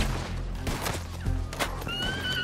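A horse neighs and whinnies loudly in Red Dead Redemption 2, with hoof clatter and game-like ambient noise around it.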